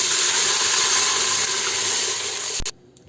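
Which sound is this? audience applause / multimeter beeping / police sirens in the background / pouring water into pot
pouring water into pot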